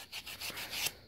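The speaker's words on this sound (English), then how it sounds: "this fun little coin, I'm going to sand that up a little bit" Sandpaper rubbing back and forth across a small brass coin charm, a steady dry scratchy rasp in a few short strokes, close and fairly quiet with no talking.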